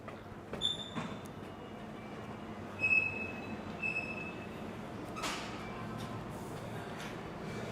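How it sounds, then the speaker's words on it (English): At a train station in Roskilde, Denmark, trains rumble faintly in the distance, with a couple of brief high wheel squeals and occasional clanks over a low, steady background. "So here is the train station."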